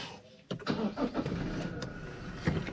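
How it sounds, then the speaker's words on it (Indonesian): A Toyota Fortuner with a 2.8 diesel engine is started, the starter cranking briefly before the engine catches and settles into a rough, steady idle close by. "Kita nyalakan dulu untuk mesinnya."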